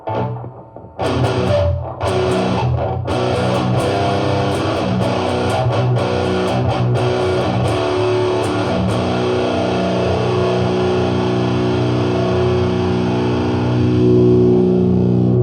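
An electric guitar driven through a distortion pedal, a few picked hits at the start giving way to a loud, sustained, saturated chord ringing steadily throughout.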